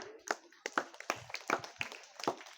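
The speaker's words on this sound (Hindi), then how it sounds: "जया के लिए जोरदार ताली बजाइए।" Clapping from a small group at a school mindfulness meditation session, sparse irregular claps with sharp separate strikes rather than a full ovation, fairly close and moderately quiet.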